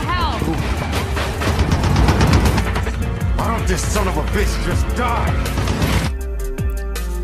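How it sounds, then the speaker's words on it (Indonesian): Rapid car-mounted machine gun fire rattles amid roaring engines and crashes in a film car-race scene, dense and loud throughout, cutting off abruptly near the end. "Machine Gun Joe mendesak Frankenstein dengan tembakan yang ada di mobilnya"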